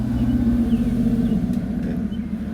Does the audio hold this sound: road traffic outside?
yes